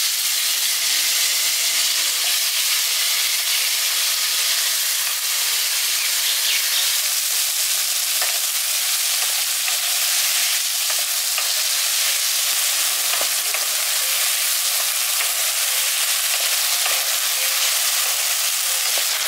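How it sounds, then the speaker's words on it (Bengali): Five hundred grams of chopped tomatoes sizzle steadily in a hot pan, a loud continuous frying hiss with scraping stir strokes throughout and no talk. "এবার এই টমেটোটা দিয়ে দিচ্ছি।"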